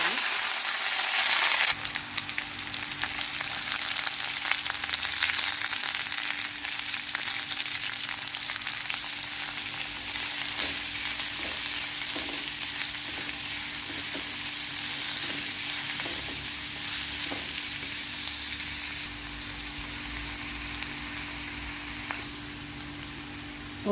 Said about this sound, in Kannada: ಎಣ್ಣೆ ಬಿಸಿಯಾಗಿದೆ. ಇವಾಗ ಸಾಸಿವೆನ ಹಾಕ್ತಾಯಿದ್ದೀನಿ.